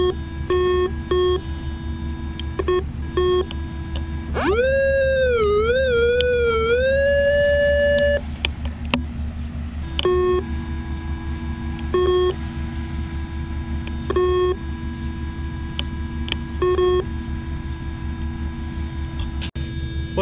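Whites V3i metal detector sounding a low conductor target: repeated short electronic tones over a steady background hum, with one longer warbling tone that bends in pitch.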